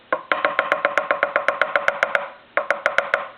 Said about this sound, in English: It's kind of like a mechanical ringer